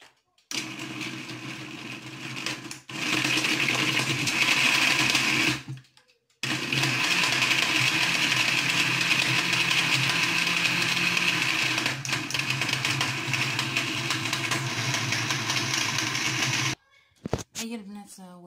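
A kitchen blender grinds mango juice with cold water, giving a loud, steady whirring roar that stops briefly, starts again, and then cuts off near the end.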